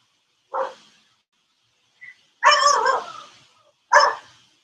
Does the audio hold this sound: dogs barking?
yes